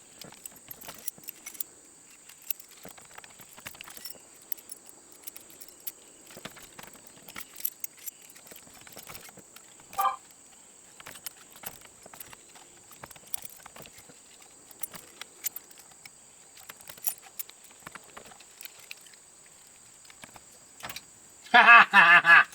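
Keys click and jangle at an old, worn Chevrolet C10 lock cylinder as one key after another is tried. Faint, scattered metallic scrapes run over a steady high whine and end in a louder rattle.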